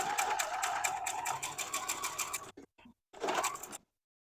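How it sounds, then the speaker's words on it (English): A sewing machine stitches a quilt block in a rapid, steady mechanical run, then stops, gives a couple of short bursts and one last brief run before falling silent. "I wish I knew how much time I had been sewing on it."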